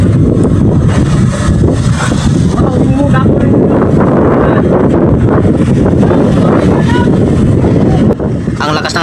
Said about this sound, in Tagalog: Mas lalong lumakas ang hangin guys, mga kaidol